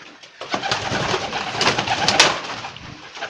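Pigeons coo repeatedly at close range, a soft throaty murmuring with wing flutters and other birds mixed in throughout.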